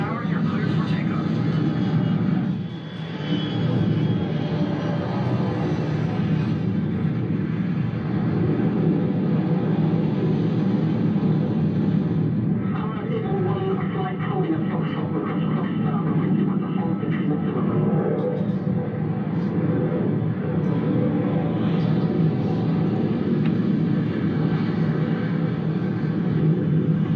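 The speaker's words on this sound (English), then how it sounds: "Vance on Ellis Tower, you're cleared for takeoff." F-15 jet taking off, a sustained heavy rumbling engine roar that fills the whole stretch, steady and fairly loud, with radio-style voices talking over it at times.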